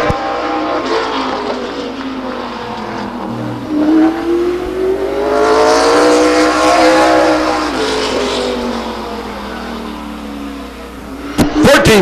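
Race car on the track at Stockton 99 Speedway, its engine rising and falling in pitch as it accelerates past, loud and sustained for most of the run, with a brief burst of another car near the end.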